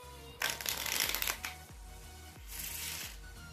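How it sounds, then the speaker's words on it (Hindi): A deck of playing cards being shuffled during a card magic trick, two brisk riffling bursts separated by a pause, with soft taps of the deck between them, close and fairly quiet. "और एक बार शफल भी कर देता हूँ।"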